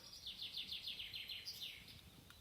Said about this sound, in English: The birds singing songs.